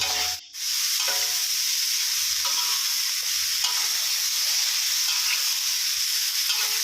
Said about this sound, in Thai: คนคลุกเคล้าให้ทั่วนะครับ